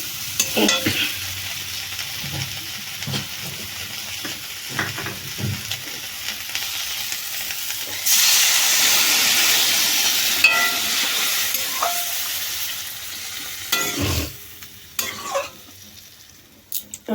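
Water poured into a pan of frying dried fish curry, which flares into a loud hiss and steamy sizzle after stirring and scraping, then settles back to clatter and clinks.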